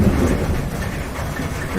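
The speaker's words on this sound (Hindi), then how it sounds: "तभी अचानक तेज बारिश होने लगी।" Heavy rain pours down in a dense, roaring wash, with low thunder rumbling beneath it. The sound is loud and continuous throughout.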